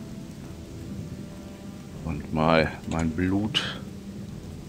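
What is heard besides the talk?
rain and thunder in the video game Odyssee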